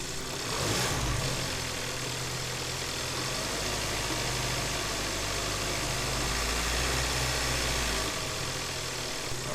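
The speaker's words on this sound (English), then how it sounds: "I'm gonna rev it a little bit and let's see if it jumps up above 12" A 2011 Sonata car engine runs at a steady, close idle, then rises slightly as it is revved, a continuous even hum with no talking.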